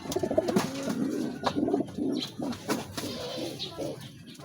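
Pigeons coo in soft, repeated throaty calls at close range, with a few brief rustles and faint background noise between the coos.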